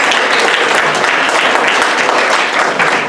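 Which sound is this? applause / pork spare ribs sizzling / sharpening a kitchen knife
applause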